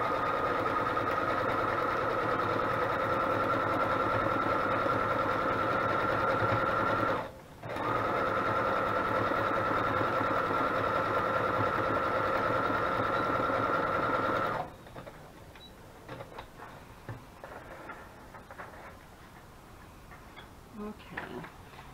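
A sewing machine stitches through junk journal pages with a steady, close whirring drone that breaks once briefly, then stops partway through, leaving faint paper handling and scattered soft clicks.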